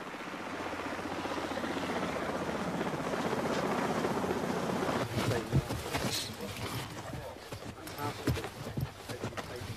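A Royal Marines training helicopter's steady rotor thrum fills the first half, loud and continuous, then fades into a rougher rumble with voices talking over it.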